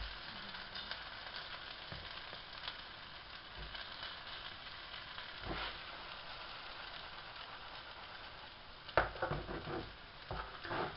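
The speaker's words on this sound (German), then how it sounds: "So, bei der zweiten Seite noch mal so 1-2 Minuten anbraten" Meat sizzles in a frying pan while the second side sears, a steady crackling hiss at moderate level with a few louder spatters and pops, no talking.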